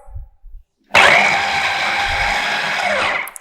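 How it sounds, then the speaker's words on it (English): A food processor whirs into motion after a brief silence, blending zucchini pesto with a loud, steady motor drone and choppy grinding that runs for a few seconds before cutting off. "let's take this processor and let's mix everything together."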